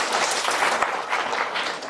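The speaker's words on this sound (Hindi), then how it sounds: "एक बार जोरदार ताली बजाएं अपने लिए।" Loud, sustained applause from a hall full of schoolgirls at a girls' school motivational session, dense steady clapping filling the whole stretch without pause.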